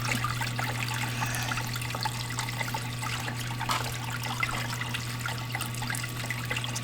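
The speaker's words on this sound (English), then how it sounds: "Yes, that's how it should drain." Water drains through fish tank pipes during a freshwater aquarium water change, a steady trickling, gurgling flow with a constant low hum underneath, moderately quiet and unbroken for several seconds.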